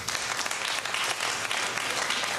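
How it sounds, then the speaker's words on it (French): Steady, dense applause from an audience, sustained throughout with no voices standing out. "Applaudissez."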